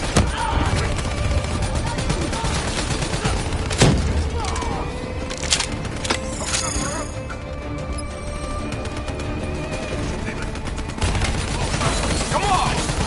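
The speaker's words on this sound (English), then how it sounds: "Hit him with the swarm launcher" A swarm launcher fires in Call of Duty amid a firefight: repeated cracks and blasts with a sharp boom partway through, over continuous battle noise and background voices.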